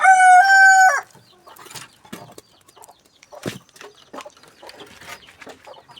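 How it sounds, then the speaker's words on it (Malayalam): Chickens and chicks in a small farm coop: a loud rooster crow opens, then scattered close clucks, chirps and rustles follow at a quieter level. "ഇതാണ് നമ്മളെ കോഴിക്കുഞ്ഞുങ്ങൾ കേട്ടോ"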